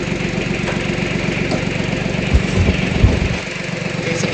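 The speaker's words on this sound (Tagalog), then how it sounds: "Labas natin itong traktora." A tractor engine runs steadily at a low, throbbing idle close by, with a couple of brief knocks or clunks partway through and no speech.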